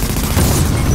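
Loud, close explosion in The Division, a single dense broadband boom with heavy low-end rumble filling the whole second.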